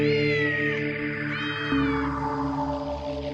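An injured cat with wounded legs lets out a couple of drawn-out, plaintive meows, close and clear over a steady musical background.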